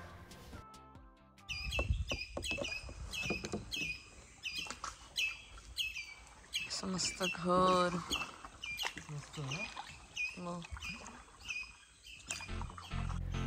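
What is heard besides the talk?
various birds calling along a Konkan creek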